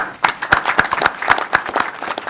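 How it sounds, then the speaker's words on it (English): Scattered applause at a county board of commissioners work session honoring a United Way campaign, a modest group of sharp, uneven claps close by without any talk. "I'd just like to give them some applause"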